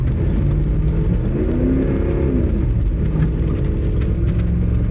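A Dodge Ram 1500 pickup accelerates with the gas pedal pressed hard, a steady loud engine drone with a rising whir and rumble that holds throughout, no talking over it.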